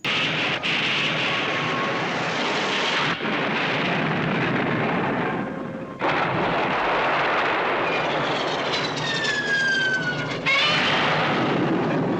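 Airplanes from the film Godzilla's Revenge, a loud continuous roar of aircraft engines with bursts of explosions. Whining engine tones rise and fall in pitch across the scene, with no talking.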